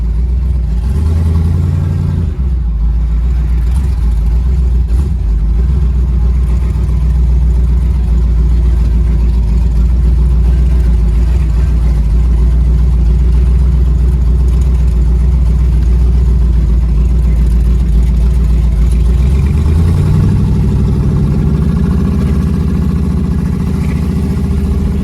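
A twin-turbo LS-swapped G-body car drives along, its engine droning loud and steady from inside the cabin, with turbos whistling faintly as it spools and a shift in pitch near the end.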